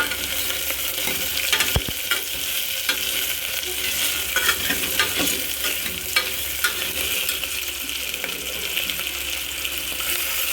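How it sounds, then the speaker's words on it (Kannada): Goat trotters frying in oil in a pot for soup, a steady crackling sizzle with occasional stirring scrapes and clinks throughout, no talking. "ಕಾಲು ಚೆನ್ನಾಗಿ ಫ್ರೈ ಮಾಡ್ಕೊಳ್ಳೋಣ ಎಣ್ಣೆಲಿ"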